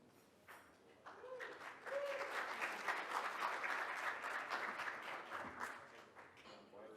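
An audience at an academic conference breaks into sustained applause, swelling quickly and holding steady for several seconds before tapering off, heard from within the hall.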